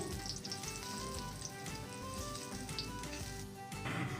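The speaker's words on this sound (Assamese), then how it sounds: "এতিয়া পিঠাকেইটা লাহে লাহে উলটাই দি আছোঁ এইদৰে।" Bottle gourd pitha frying in a little oil in a pan while being flipped, a steady close sizzle and crackle running throughout, with a few soft knocks of the turner and no talk.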